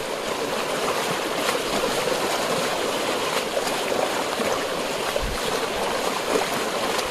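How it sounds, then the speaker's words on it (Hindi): River water flowing during a river trek, a constant broad rush of the stream close by, steady and fairly loud with no voices. "ये देखिए पानी का फ्लो"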